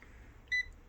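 A sous vide cooker gives a single short, clear electronic beep as its button is held down, close by in an otherwise quiet room.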